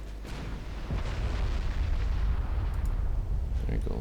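Naval main guns in Ultimate Admiral Dreadnoughts fire and land hits, heavy booming blasts rolling into a rumbling, continuous barrage, with a voice talking faintly at the same time.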